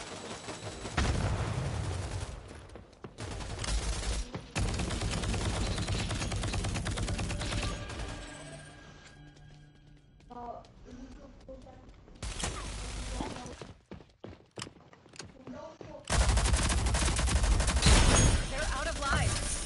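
Gunfire in the video game Rogue Company: loud automatic bursts and single shots in clusters with quieter gaps, mixed with game effects and someone talking over the action.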